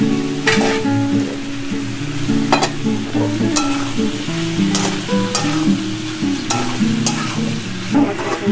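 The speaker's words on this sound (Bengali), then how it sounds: "আমরা আগে থেকে ভেজে রাখা পটলটাও আমি এর মধ্যে দিয়ে এবার কষিয়ে নেব।" Pre-fried pointed gourd (potol) cooks in a spiced tomato masala with potatoes, giving a steady close sizzle with repeated scrapes and clinks of stirring in the pan and no talking.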